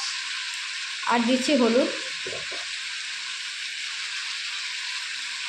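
A metal spatula stirs potato and ridge gourd in an oil-filled frying pan, with a steady sizzle throughout and a brief burst of louder scraping near the start. Someone speaks a few words over the cooking.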